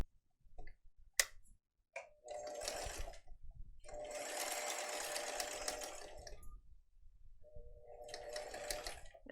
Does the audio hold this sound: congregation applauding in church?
no